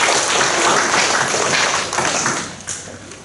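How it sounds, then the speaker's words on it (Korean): Congregation clapping together at a Monday church worship service in a large auditorium, a dense, steady wash of many hands that thins slightly toward the end. "우리 은혜 주신 하나님께 우리 감사의 박수 한번 힘차게"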